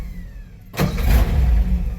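A 1959 Ford F-100 4x4 pickup engine that has sat for 30 years sputters roughly, a sudden burst of rough rumble that wavers and fades, heard close with no talking.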